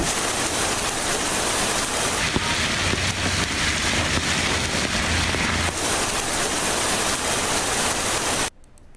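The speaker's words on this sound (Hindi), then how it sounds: "इस्लामाबाद में गरज चमक के साथ सर्दी की पहली बारिश, बादल जमकर बरसे।" Heavy winter rain pours down in Islamabad, a dense, steady hiss that fills the whole clip at close range before cutting off abruptly near the end; no voices.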